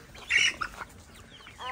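A chicken clucks close by on a farm outing beside a fishing net: a few short, sharp calls with quieter clucks after them, set against faint outdoor background noise.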